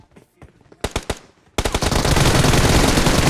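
Automatic rifle fire in the PUBG Mobile video game, a few scattered shots and short bursts followed by a loud, sustained rapid stream of gunfire.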